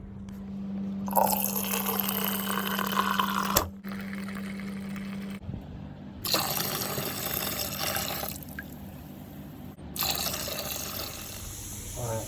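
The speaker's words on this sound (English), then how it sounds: "I'll fill this can here with water and rinse it all out." Water runs steadily into a brewing fermenter can in several bursts, separated by brief pauses, with a low steady hum underneath throughout.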